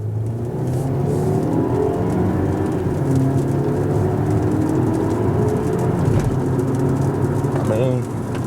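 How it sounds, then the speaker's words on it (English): A 2021 BMW X1's engine revs up under acceleration, a steady, fairly loud drone rising slightly in pitch, heard from inside the car with someone talking over it. "you can hear the engine a little bit"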